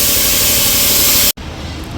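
Anti-rust oil sprayed onto the underbody of a Mahindra Thar during post-trip servicing, a loud steady close hiss that cuts off abruptly, then resumes more quietly.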